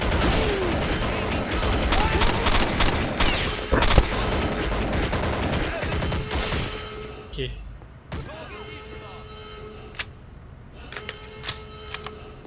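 A MAC-10 submachine gun firing in the video game Counter-Strike: Condition Zero, rapid rattling bursts that are loud and dense at first, then thin into sparse single shots, with someone talking over the gunfire.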